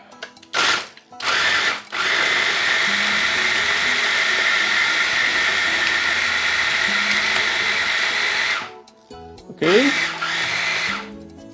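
An electric blender whirs steadily for several seconds, churning sambal belacan ingredients, after a couple of short pulses at the start, then stops; a voice speaks briefly in the gaps near the beginning and end.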